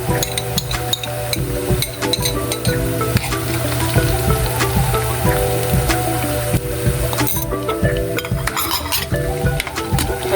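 Garlic sizzles steadily as it fries in a pan, with a constant crackling hiss broken by the clink and scrape of a utensil stirring against the metal.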